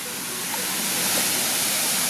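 A waterfall on a farm lot in Calauag, Quezon roars with a continuous dense rush of falling water, loud and steady throughout.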